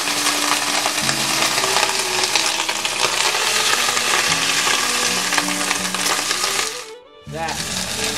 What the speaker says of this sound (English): I'm actually going to give this asparagus a little bit of flavor with the same red wine we used for our sauce.